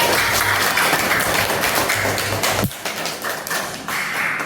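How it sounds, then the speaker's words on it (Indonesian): Classroom applause from students, a short burst of brisk clapping that stops abruptly partway through, followed by quieter scattered taps and room noise. "tepuk tangan untuk Ajwa"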